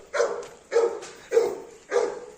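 Rocky, a farm dog, barks at another dog in four evenly spaced, loud, close barks.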